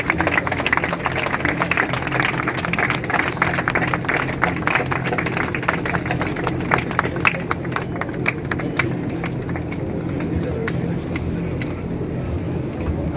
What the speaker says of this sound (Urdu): کھڑے ہو کر ہم سبھی تالی بجا کر ان کا استقبال کریں